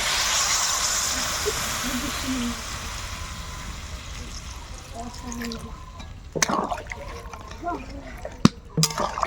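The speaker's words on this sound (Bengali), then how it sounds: "এবার আমি জল দিয়ে দেবো" Water poured into meat being fried in a pan, a broad steady sizzling hiss at first that softens, then sharp crackles and drips near the end, with faint talk in the background.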